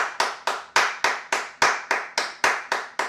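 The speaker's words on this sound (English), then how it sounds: "3 claps." Hand claps in a steady, even series, about a dozen sharp claps over three seconds, grouped three to each metronome beat as beginner violin pulse practice; close and alone, with no talk.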